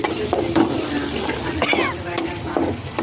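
Chili pieces are stirred as they fry in a pan for a spiced meat dish, giving a steady sizzling and scraping bed with a few clinks, close by, while a person talks over it.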